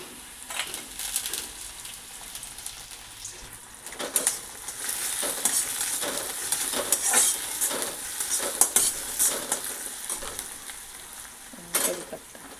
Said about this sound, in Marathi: कांदा चांगला लालसर रंगावर भाजून घ्यायचा आहे.